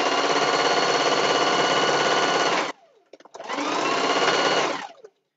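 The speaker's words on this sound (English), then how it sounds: "I'm literally chasing my sewing machine." A sewing machine stitches fleece loudly and steadily for a few seconds, pauses briefly, then runs again before stopping.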